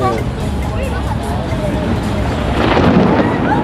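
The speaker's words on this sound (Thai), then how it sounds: "ตอนนี้ฟ้าร้องพี่น้อง ฟ้าร้องนะครับ" Low, continuous thunder rolls through a busy outdoor tourist area, steady and broad with a slight swell near the end, partly buried under crowd chatter and background bustle.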